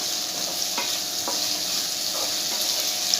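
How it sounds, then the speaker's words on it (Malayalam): Onions fry with salt in a pan, giving a steady close sizzle broken by a few soft scrapes as they are stirred. "എന്നിട്ട് നല്ലപോലെ ഇളക്കി കൊടുക്കാം."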